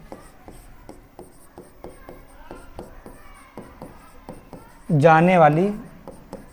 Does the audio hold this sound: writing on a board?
yes